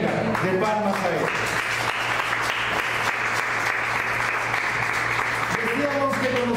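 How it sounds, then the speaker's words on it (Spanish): Church congregation giving a round of applause, steady dense clapping sustained for several seconds, with someone speaking at the start and again as it fades. "Dale una ofrenda de palmas a Él."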